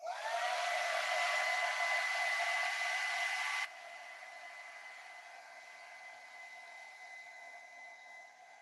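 A hair dryer blows on a putty mask with a loud, steady whooshing whine, then drops to a lower, quieter setting partway through and keeps running evenly to the end.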